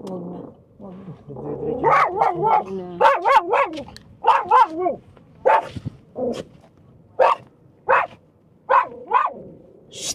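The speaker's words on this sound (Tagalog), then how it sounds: "Dahil may aso, ganun to" A dog barks repeatedly in sharp, uneven bursts close by, with some yelping and a person's voice mixed in early on.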